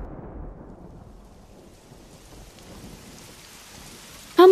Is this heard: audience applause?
no